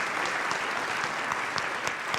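Applause from a seated audience at a meeting, a dense, even wash of many hands clapping at steady volume throughout, with occasional sharper individual claps standing out and no talking.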